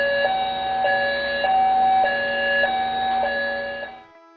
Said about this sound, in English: And here is the fire alarm.